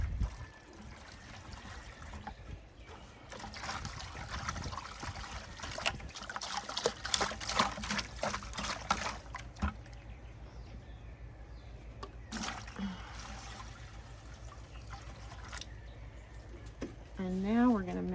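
Rainwater pours into a bucket in a steady trickling, splashing stream for hydroponic nutrient mixing, loudest in the middle stretch, then thinning out, with faint background noise and a brief voice-like sound near the end.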